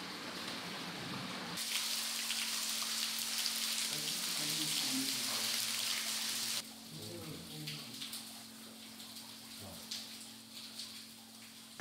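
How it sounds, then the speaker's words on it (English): Water flows inside a large cave hall in the Guiana Highlands near Angel Falls, a continuous rushing hiss that drops suddenly to a softer, steadier wash partway through. "We can hear the sound of flowing water."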